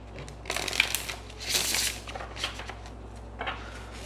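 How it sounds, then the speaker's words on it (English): A deck of cards is shuffled in a few quick riffling bursts, crisp and close, with short pauses between them. "Let's get one shuffle."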